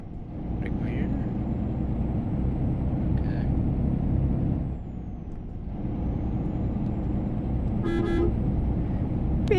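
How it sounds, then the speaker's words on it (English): A truck horn honks in a modded truck-driving video game convoy leaving Białystok, Poland, with short blasts over steady engine and road rumble and an air-brake hiss. "Beep beep. Honk honk."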